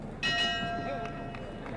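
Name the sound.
boxing ring bell ending round one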